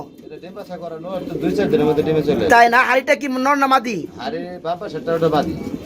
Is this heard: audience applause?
no